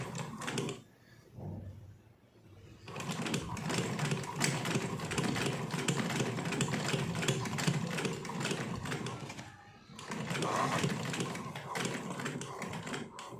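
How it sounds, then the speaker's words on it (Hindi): A sewing machine stitches down the middle of a kurti sleeve with white thread on top and matching bobbin thread below, a dense steady whirring run that pauses briefly near the start and again around ten seconds before resuming. "तो सबसे पहले हम यहीं से इसको इसके मिड में सिलाई लगाते हुए"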